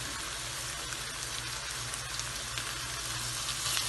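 Garlic and ginger fry in hot oil for a kali mirch qeema, giving a steady, close, continuous sizzle and crackle that holds an even level throughout with no talking.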